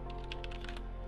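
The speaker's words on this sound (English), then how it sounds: "if I type in something" Quiet, quick run of keystrokes on a computer keyboard, a handful of light taps spread over about a second under a steady background hum.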